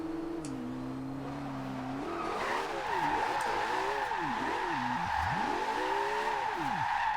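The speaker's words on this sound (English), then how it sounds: "You can just hear the turbos. Listen to it." A Porsche 918 drift hypercar of over 1400 hp in Forza Horizon 2, engine with a turbo whine revving up and down in repeated swoops, loud and close, tires squealing briefly.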